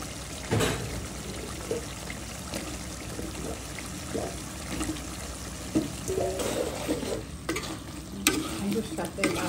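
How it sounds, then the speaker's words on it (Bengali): Potatoes sautéing in a pan with spices, a dense continuous frying hiss under rhythmic stirring and scraping, with a few louder clatters and a brief liquid trickle later on; no one speaks. "আলুর সাথে ভালো করে কষিয়ে নেব"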